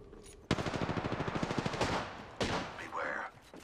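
Rapid automatic gunfire in a video game, a fast burst of close, sharp shots followed by a couple of heavier blasts and a brief tonal effect near the end.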